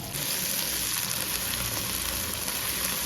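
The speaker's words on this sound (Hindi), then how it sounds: "अब इसके अंदर मैं भिंडियाँ फ्राई करूँगी" Okra frying in ghee, a dense, steady sizzle that stays loud and unbroken throughout, heard up close with no voices over it.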